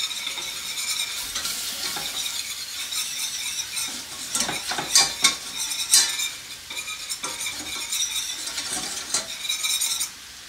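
A roux of olive oil, butter and flour cooks in a pan, giving a steady bright sizzle with scraping stirring strokes and a few utensil clicks near the middle, close and continuous, with no voices.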